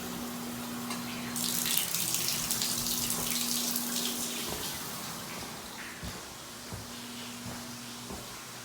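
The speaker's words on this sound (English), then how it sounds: "turning the hot water on." Hot water running from a tap into a bathtub, a steady broadband rush that swells louder after the first second and then continues evenly, with a faint tonal hum running beneath it.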